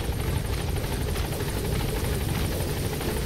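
Helicopter in the video game Metal Gear Solid V: The Phantom Pain, a steady loud rotor and engine roar holding at even level throughout, with no talk over it.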